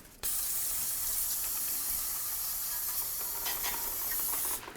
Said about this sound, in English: continue on by cleaning it off with some parts cleaner